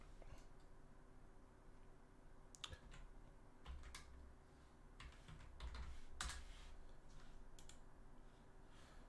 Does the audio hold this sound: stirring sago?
no